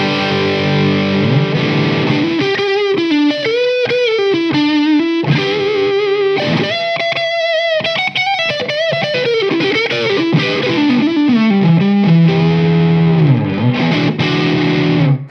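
An electric guitar with humbucker pickups plays loud and distorted through effects, with sustained chords and melodic bends ringing continuously for the whole stretch.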